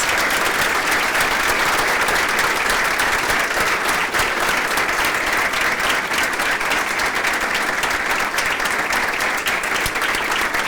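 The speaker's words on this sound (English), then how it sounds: "Just a big round of applause" Sustained, dense applause from a lecture audience at ITBA after a talk by Professor Michio Kaku, loud and steady throughout with no break.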